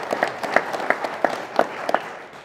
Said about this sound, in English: Let's give Frank and Katrina another round of applause for offering these bills.